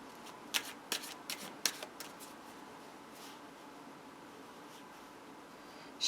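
Tarot cards being shuffled up close, a quick series of crisp riffling snaps in the first two seconds, then soft faint rustling as the deck settles, in a quiet room.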